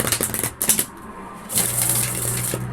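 A Night Sun Tarot deck is shuffled by hand, with quick riffling flutters and soft card taps in short bursts, close and fairly quiet, and no talking.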